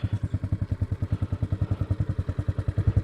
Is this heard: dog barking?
no